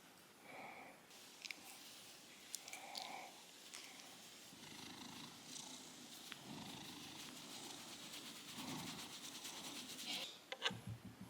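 A house cat purrs softly and close, a faint continuous rumble with scattered rustling and brief clicks, no voices.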